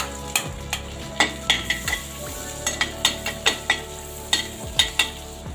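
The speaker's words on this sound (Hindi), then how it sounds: "ये दोस्तों बटर गरम हो चुका है। अब मैं इसमें मसाले ऐड करूंगी।" Spoonful of garlic, ginger and chili masala frying in hot butter in a pan, a steady soft sizzle broken by repeated sharp scrapes and clinks of a spoon stirring, close and without talk.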